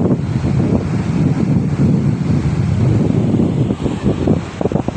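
Strong wind buffets the microphone on the seashore at Digha, a constant low roar with waves surging underneath, loud and unbroken throughout.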